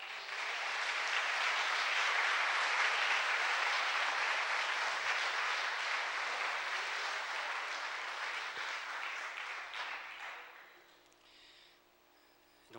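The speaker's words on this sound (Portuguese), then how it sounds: "Vamos aplaudir o Senhor" A church congregation applauds loudly and steadily for several seconds, and the clapping then fades away toward the end.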